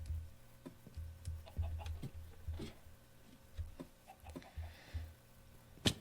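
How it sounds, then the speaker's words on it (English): Chickens cluck in a video game forest, a series of short, soft clucks and pecking ticks spaced irregularly across the stretch, faint and close, with no talk over them. "wonder why there are so many chickens in this forest"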